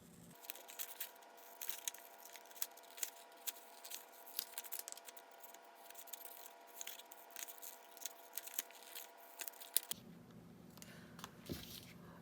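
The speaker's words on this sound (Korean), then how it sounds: "종이 전용 가위로 잘 잘라 보시겠습니다" Paper-only scissors cut out a paper pattern for a small doll dress. The snips are close, faint and irregular, with crisp crunches and rustles repeating over about twelve seconds and no talking.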